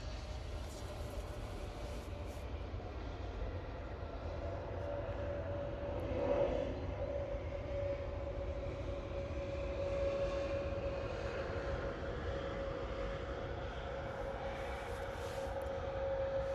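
A Swiss airliner at Munich airport produces a steady, broad engine rumble with a sustained tonal whine, heard from a distance and holding at an even level throughout.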